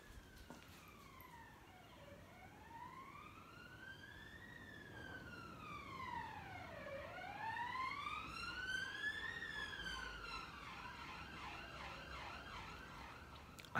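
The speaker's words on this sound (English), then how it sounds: "that's the first siren I've heard." A police siren wails in a slow rising and falling pattern, moderately distant and steady throughout, with no voices.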